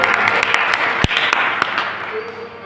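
An audience at a gathering in Haridwar breaks into a steady patter of applause, which carries on beneath a speaking voice and fades slightly toward the end.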